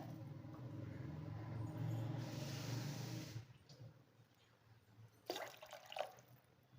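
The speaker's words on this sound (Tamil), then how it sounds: "ஸோ மொத்தமாக நான் வந்து ஒரு 4 அழகு 4 டம்ளர் தண்ணி விடுறேன்." Water pours steadily into a pot for a few seconds, then stops, followed by a few faint clinks and drips.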